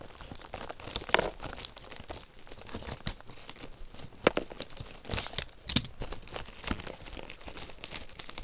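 A knife cuts open a cardboard package holding a Podrop stand. Irregular close crinkling, scraping and tearing noises continue throughout at a moderate level.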